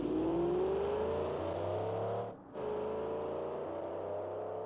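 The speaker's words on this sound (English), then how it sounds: "it does lose a lot of time when off the line, as you can hear" Quarter-mile drag race car launching off the line, a steady engine whine rising in pitch, briefly dropping out as it shifts, then resuming, moderately distant.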